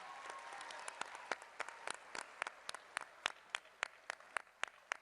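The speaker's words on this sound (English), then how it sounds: "Give her a big round of applause." A school audience at Lake Braddock applauds a student's sponsor at a NASA event naming the Mars 2020 rover. A dense crowd of clapping starts full and thins into slower, separate claps toward the end.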